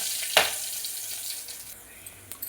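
Ginger and garlic drop into hot ghee with a sharp initial crackle that settles into a soft, steady hiss, close and moderately loud for a couple of seconds.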